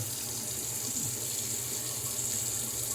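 Tap water runs steadily while shaving lather is being built with Seaforth Sea Spice Lime soap, a continuous close hiss with a low hum beneath, no voices.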